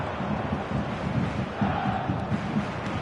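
A stadium crowd in the eFootball 2025 video game on a clear evening before a showcase match keeps up a steady, dense roar at even loudness throughout.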